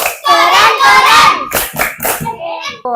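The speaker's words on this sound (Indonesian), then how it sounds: "tepuk tangan dulu untuk tepuk keren" A group performs the 'tepuk keren' clapping chant, with many voices chanting together in unison over brisk rhythmic hand claps, loud and close, ending in a few scattered claps.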